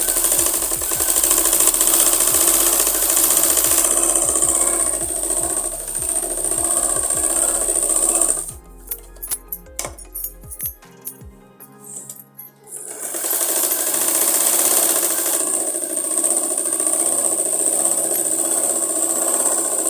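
A sewing machine runs steadily and loudly up close as it stitches a salwar, a whirring mechanical drone that stops briefly mid-clip with a few clicks and handling noises before the stitching resumes.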